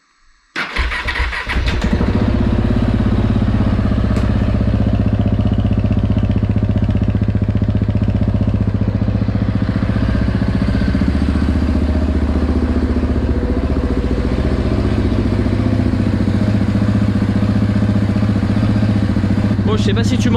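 A KTM 690 SMC R single-cylinder motorcycle without its baffle cranks and fires, then settles into a loud, steady, close-up idle that runs without a break, a voice briefly audible at the start.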